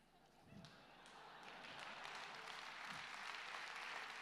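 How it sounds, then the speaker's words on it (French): An audience at a live show breaks into applause that swells from faint to a steady, fairly quiet wash of clapping, with a couple of dull thumps early on. "je ne sais pas trop ce que vous applaudissez"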